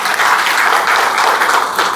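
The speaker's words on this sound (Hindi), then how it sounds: "कि इन मदर्स के लिए सबसे पहले ताली बजाइए।" Audience applause for mothers at a parenting workshop, dense steady clapping from a full hall, loud and sustained across the whole stretch with no talking.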